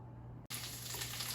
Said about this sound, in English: Now the oil has started sizzling